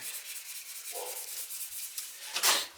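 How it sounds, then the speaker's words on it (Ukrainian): Sandpaper rubs across a titanium surface in a steady, hissy scraping stroke, close and continuous, with a sharper rasp toward the end. "Зараз я просто беру, роблю пробу. Наждак швидко з'їдається, от титан."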